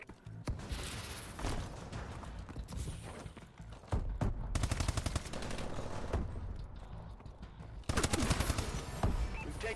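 Automatic-rifle fire in Call of Duty: Advanced Warfare during a team deathmatch, loud rapid bursts stacked over game effects, with short pauses between volleys and a sharp burst near the end.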